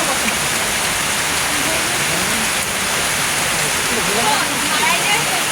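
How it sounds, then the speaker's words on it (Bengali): Heavy rain pours down in a botanical garden as a downpour begins, a loud, steady, dense hiss of water on leaves and ground that fills the whole stretch without a pause. "শুরু হয়ে গেল বৃষ্টি।"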